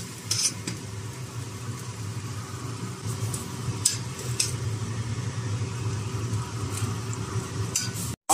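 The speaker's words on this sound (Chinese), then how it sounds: "这个锅开了，我把这个肉皮捞出来" Pork skin boiling in a pot for skin jelly, being scooped out: steady rolling bubbling with a low hum and a few light clinks of the utensil against the pot, with no talking.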